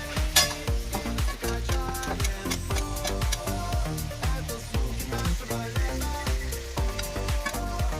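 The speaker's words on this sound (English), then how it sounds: "Some butter, start spooning right on the bone." Butter sizzling in a hot pan as a spoon repeatedly bastes it over a T-bone steak, rhythmic metallic scrapes and clinks against the pan every half second over a continuous close sizzle.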